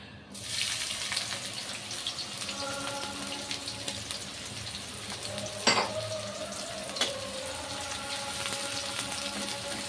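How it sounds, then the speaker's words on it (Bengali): Onions sizzle steadily in hot oil for chicken biryani, a constant hissing fry with a couple of sharp utensil clinks partway through. "এইবার এর মধ্যে আমি পেঁয়াজটা দিয়ে দেব।"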